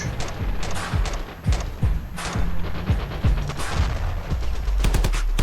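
Rapid gunfire in the Ravenfield video game, fired by a badly injured soldier, with sharp repeated shots in irregular bursts over a dense battlefield din, loud and close throughout.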